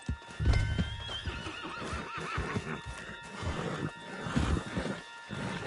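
A horse in a western video game whinnies with a rising, wavering neigh, accompanied by clip-clopping hooves, close and clear over a low rumble with a few scattered thumps.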